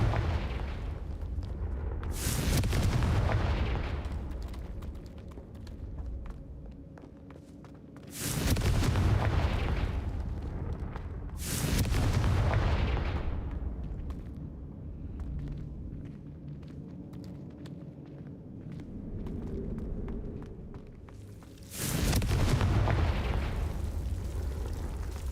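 Confringo blasting spells in Hogwarts Legacy, several heavy booming explosions with rumbling tails spaced a few seconds apart, loud and close, with no talking over them.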